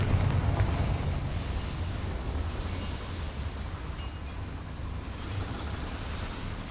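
A Confringo explosion spell cast in the Hogwarts Legacy video game sets off a loud, continuous blast, a dense roaring rumble that tapers only slightly over several seconds.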